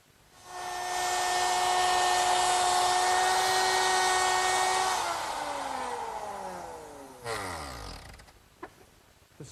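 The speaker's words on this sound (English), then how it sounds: "The slots are cut in the rails using a 1/4-inch slot cutting bit." A router with a 1/4-inch slot-cutting bit whines loudly and steadily while cutting slots in pine rails, then winds down with a falling pitch as the motor coasts to a stop.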